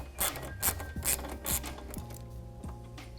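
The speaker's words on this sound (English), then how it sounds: "we're going to remove this screw on the front of the headlight" An 8mm socket on an extension backs out a screw on the front of a 2021-2022 Ford F-150 factory halogen headlight, giving close, rhythmic ratcheting rasps in four quick bursts, followed by lighter turning clicks.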